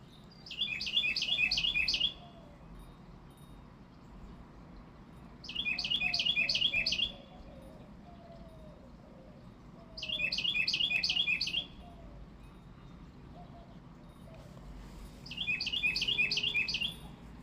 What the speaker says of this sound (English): The dove out here are just making all kinds of noise, and then the other little birdies.